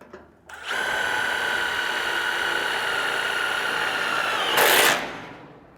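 A power drill drives screws into a sliding I-beam door assembly, whirring steadily for about four seconds with a louder surge at the end before stopping, close and alone.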